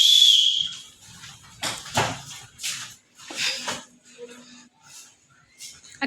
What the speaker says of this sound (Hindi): जल्दी से सीटी बजाओ।